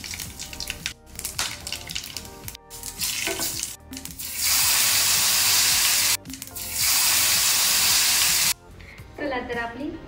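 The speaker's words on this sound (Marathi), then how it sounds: "जिरी मोहरी टाकून झाली। आता आपण यामध्ये कच्चे मसाला ऍड करत आहोत" Raw masala hits hot oil in a cumin-mustard tempering and sets off a loud, close hissing sizzle in two long sustained bursts, broken by softer stirring and clatter.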